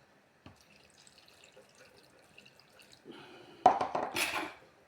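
Water pours and splashes briefly into a bowl of sliced onions with sugar, salt and apple cider vinegar near the end, after a stretch of quiet kitchen clatter and small taps.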